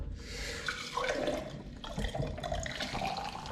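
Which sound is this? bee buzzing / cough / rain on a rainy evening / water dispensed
water dispensed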